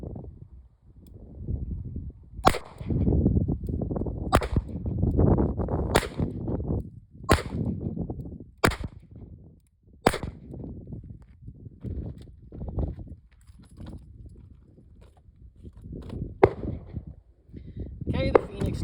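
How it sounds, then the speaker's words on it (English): Sharp gunshots from a 9mm Chiappa Rhino revolver, about seven loud reports spaced a second or two apart at a shooting range, with someone talking between shots and a quieter crack near the end. "I'm going to shoot at the second row on the left."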